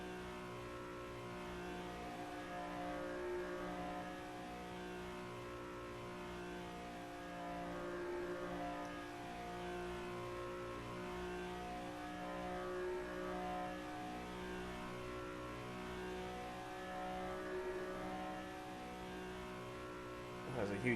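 A Dallara IR18 IndyCar engine in rFactor2 holds a steady, high-revving whine at speed, a continuous buzzing drone with shifting pitch, fairly faint, with a voice talking over it.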